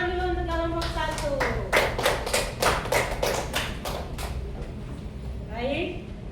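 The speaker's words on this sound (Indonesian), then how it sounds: "tepuk tangan dulu untuk kelompok 1." A classroom group claps together in a short burst of rhythmic hand claps, loud and close, following a voice and fading under further talk.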